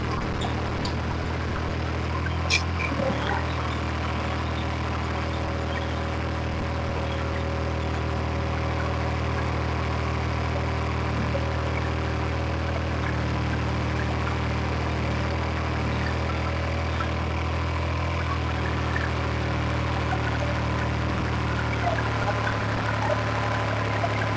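A New Holland 3630 tractor runs a KSA Bheem super seeder during testing, its engine a steady, loud low drone throughout with a brief knock early on and no voices.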